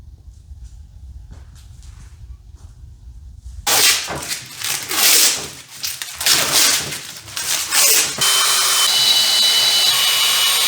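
A power drill bores holes in a roof rack wind fairing for a third-generation 4Runner, starting after a quiet stretch with bursts of loud whirring and grinding, then a steady high whine near the end.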